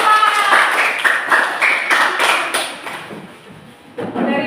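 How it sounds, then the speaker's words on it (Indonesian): A primary school class claps for a discussion group, a small group of hands in uneven bursts that fade toward the end before a fresh burst, with some voices mixed in. "Berikan tepuk tangan untuk kelompok"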